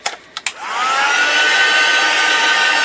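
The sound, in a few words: heat gun heat-setting embossing powder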